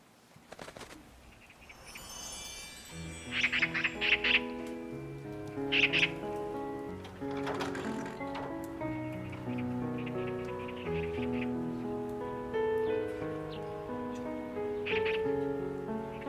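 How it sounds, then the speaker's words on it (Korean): A magpie gives a few short, harsh chattering calls in brief bursts, set against continuous soft instrumental music that carries through the whole stretch. "까치요."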